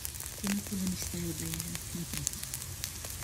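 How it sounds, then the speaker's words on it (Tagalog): Dried fish (tuyo) frying in a pan, a steady close crackling sizzle running throughout with a few brief spoken words over it. "magprito tayo ng tuyo muna, then egg"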